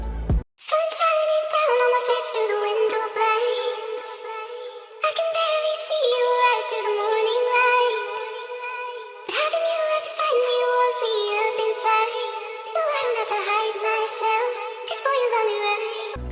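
Smooth R&B melody loop built on four chords, pitch-shifted down with a formant change and treated with EQ, compression, delay and reverb; dense, steady and loud, with the phrase repeating in even cycles and no talking.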